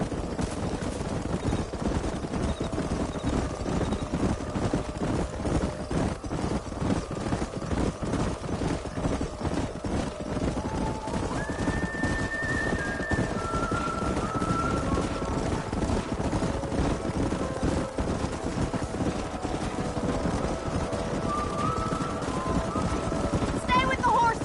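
Horses galloping in Red Dead Redemption 2 during a canyon horse drive, steady rapid hoofbeats running throughout under a continuous game soundscape, with voices talking over it.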